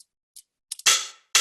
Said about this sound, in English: because without it, it sounds like this. A little bit too dry for me.